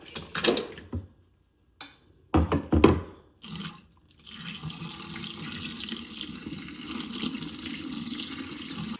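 Hot dye water from a garment dyeing bath is poured out into a sink, coming in a few short splashing bursts before settling into a steady running gush that continues to the end.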